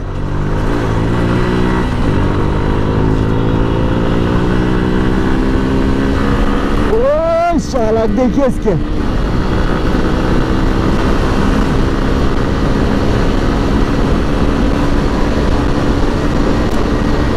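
Hero Hunk motorcycle engine under way, a loud close steady drone that revs up through gear changes with a sharp rising whine midway, while a rider talks briefly over it.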